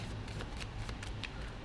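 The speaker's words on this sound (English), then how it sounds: "I'm going to shuffle the cards." A small stack of cards is shuffled by hand in a quick series of soft, papery riffles and flicks, close and quiet.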